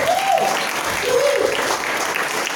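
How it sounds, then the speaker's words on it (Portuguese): A church audience claps in a short burst of applause, close and fairly loud, with brief vocal whoops rising over the clapping. "só de palmas aí, galera"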